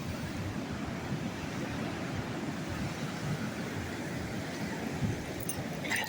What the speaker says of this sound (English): These fucking waves are fucking epic.